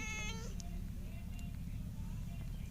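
A mother cat with her kittens in a village gives a short meow near the start, followed by faint smaller sounds over a loud low rumble of background noise.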